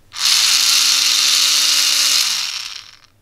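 Small DC motor on a 5-volt supply, switched on by a touch switch, whirs steadily with a bright high whine for about two seconds, then winds down and stops.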